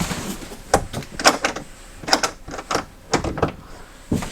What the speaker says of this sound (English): you can open this door up, bring your bikes in